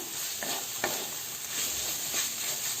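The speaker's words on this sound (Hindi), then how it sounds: "अब कनी देर हम मसाला के भूज लेबै।" Steady low sizzling of spices frying in a pan, with a few soft scraping stirs.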